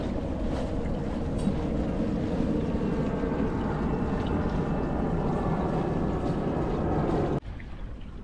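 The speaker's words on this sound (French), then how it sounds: "ça souffle bien, c'est monté on est à 9 nœuds" A sailboat, a small schooner, under way in strong wind on a large lagoon at about 4 knots, giving a steady loud rush of wind and water that runs unbroken until it cuts off abruptly near the end.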